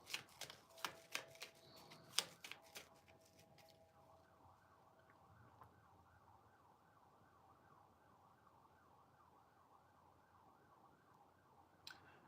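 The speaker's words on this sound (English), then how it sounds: "Excuse the sirens." A distant emergency siren wails in a steady rising and falling pattern, following a few sharp clicks and rustles nearby.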